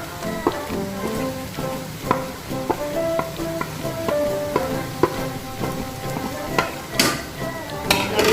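Egg masala with spice powders is stirred in a pan on a low flame: repeated scraping and tapping strokes over a soft sizzle, close up, with steady tonal music underneath.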